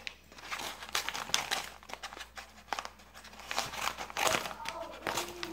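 Paper and plastic packaging from a craft accessories parcel crinkle and rustle up close in irregular bursts as it is opened, with a voice speaking softly at times.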